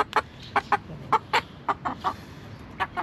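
Chinese-breed chickens in a backyard garden clucking nearby, a string of short, separate clucks at an uneven rhythm over a quiet background, with no talking.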